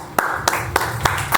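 Sharp claps ring out at an evenly spaced, slow rhythm, five in all, over a quiet room during a poetry reading event, close and distinct.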